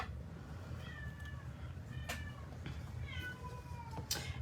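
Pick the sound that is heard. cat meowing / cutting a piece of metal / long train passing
cat meowing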